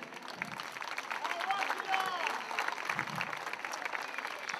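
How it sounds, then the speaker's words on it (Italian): A crowd gathered in Piazza Cima in Conegliano applauds steadily for a women's team before a final, a continuous wash of clapping with scattered cheers and shouts throughout. "Io vi chiedo da qui un grandissimo applauso per caricare innanzitutto le nostre ragazze"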